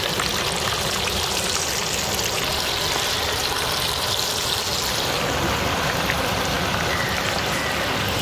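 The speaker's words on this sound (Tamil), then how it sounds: "இறால் 65 இறால் பொரிக்கிறேண்ணா" Prawn 65 deep-frying in a large batch of hot oil, a loud, continuous hissing sizzle that stays steady and close throughout with no voices.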